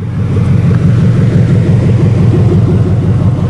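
A car engine running without oxygen sensors idles smoothly and steadily, a loud, close, even low rumble with no revving, holding constant from start to finish.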